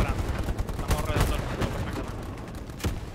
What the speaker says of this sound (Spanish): Pues sigue disparando, sigue disparando.